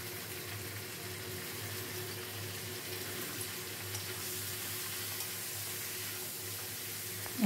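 Spice paste of cumin, turmeric and chili blended with water hits a hot pan with hot oil, giving a steady, even sizzle that holds for several seconds before a brief louder burst at the end.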